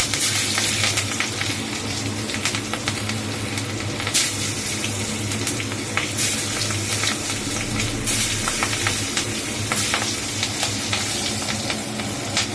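Broken dried red chillies fry in hot oil with a nigella seed tempering, giving a continuous close sizzle broken by occasional stirring scrapes, with no talking.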